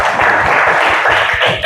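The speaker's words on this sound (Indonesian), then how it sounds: "Kita berikan tepuk tangan untuk teman kita." Classmates give a short burst of applause for a fellow student in a classroom. The clapping is close and steady, lasting under two seconds.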